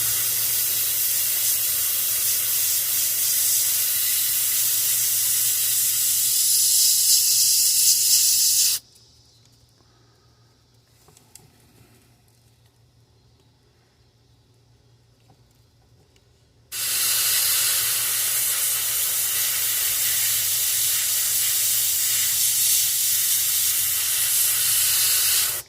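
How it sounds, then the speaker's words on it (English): An airbrush sprays paint onto a bass fishing lure, a steady, close, hissing jet that runs for several seconds, stops for a long quiet gap, then resumes just as strongly. "and then we'll just spray this"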